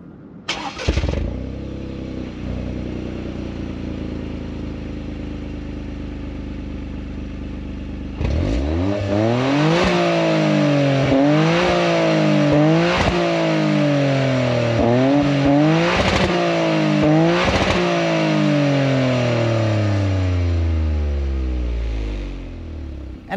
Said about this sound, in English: I'll fire it up so you guys can hear what it sounds like real quick.